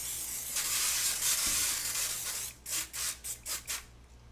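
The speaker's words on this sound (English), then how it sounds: "I just need a little bit of spray." Short bursts of cooking spray hiss from a can, a long steady spray first and then five or six quick separate puffs in a row, loud and close with no talking.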